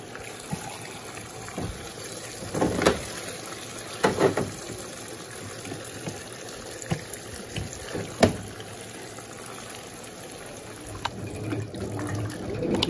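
Water pours steadily into a large 12 kg Electrolux Blue Touch top-loading washing machine set on its high water level, a continuous gushing fill with a few knocks and splashes, and no talking.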